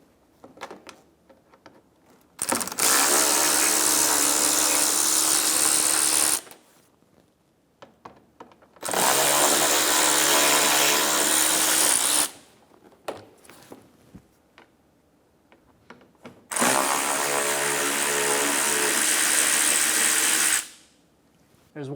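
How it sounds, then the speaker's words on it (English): A power tool backs out T20 screws from the inner fender liner of a Chevrolet Sonic, three loud sustained whirring bursts of a few seconds each, separated by quiet gaps with small clicks and handling noises. "Remove the three T20 screws in the inner fender liner."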